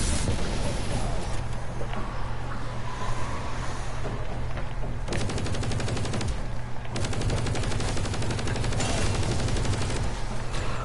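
Sustained automatic turret fire in Call of Duty Black Ops Cold War zombies, a loud, steady rattling stream of shots with brief pauses and renewed bursts over a constant background drone.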